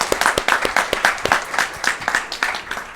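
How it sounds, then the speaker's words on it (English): An audience applauds game developers at a panel discussion, a dense burst of clapping from a roomful of people, steady and close throughout. "Could you guys stand up so we can applaud their bravery?"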